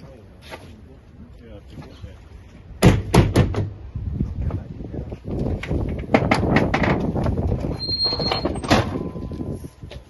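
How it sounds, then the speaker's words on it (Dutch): An indoor door swings shut with a solid thud before a gathering. Clattering knocks and several voices talking follow. "En mag ik nu nog even de deur dicht voor de show?"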